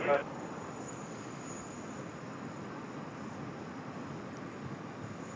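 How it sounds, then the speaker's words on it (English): A Qantas airliner on its takeoff roll at Sydney Airport, heard as a steady distant jet roar with a broad, even rumble that holds at moderate level. "Lovely long takeoff roll there from Singapore as well."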